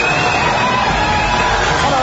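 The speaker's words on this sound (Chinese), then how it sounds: "那我们就以最热烈的掌声有请我们国际国术大师刘谦" A television studio audience claps and cheers to welcome magician Liu Qian onto the stage, a steady, loud wash of applause and crowd noise throughout with a few voices in the mix.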